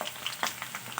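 Capsicum and carrot sizzle and crackle in hot oil for bhat bhaja, with close, steady frying noise and a few brief stirring clicks.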